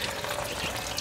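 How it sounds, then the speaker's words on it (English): Coolant running out of the lower radiator tube of a Scenicruiser bus, a steady close pour and splash of liquid with a continuous hissy texture, no voices. "currently we got the coolant draining out there."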